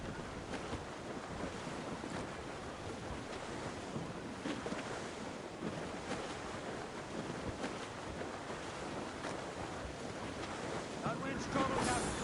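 Wind and ocean waves at sea in Assassin's Creed Rogue, a continuous rushing gust and surf wash, fairly quiet and steady, swelling slightly near the end, with voices faintly underneath.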